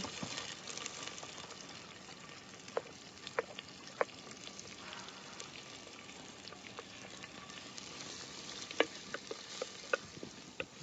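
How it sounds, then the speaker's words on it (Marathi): Whole spices including cinnamon, clove and star anise fry in a pan for a mutton dish, a faint, steady low sizzle with scattered small clicks and pops of stirring, close but quiet, no talking. "आपले खडा मसाले आहेत, दालचीन, लवंग आणि चक्री फूल, ते टाकून घेतलं."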